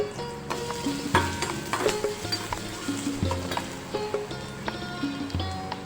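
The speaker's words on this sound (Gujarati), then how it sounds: "તો હવે એ જ તેલમાં આપણે આ ઝીણા સમારેલા કાંદા એડ કરી દઈશું।" Finely chopped onions dropped into hot oil left over from frying vegetables, giving a continuous close crackling sizzle with occasional spoon scrapes and clinks, no voices.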